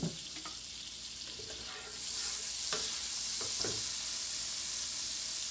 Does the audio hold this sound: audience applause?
no